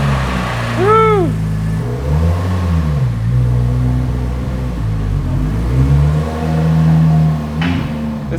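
A Porsche with all-wheel drive revs its engine loudly up close, then pulls away with rising and falling engine tones over about eight seconds, with no voices.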